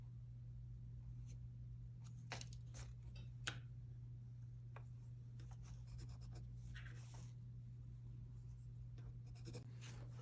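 A pen marking fabric on the wrong side for a Smart Doll jacket: short, light scratchy strokes in irregular bursts, close and soft, over a steady low hum, with no voices.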